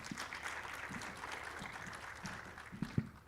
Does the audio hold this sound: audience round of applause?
yes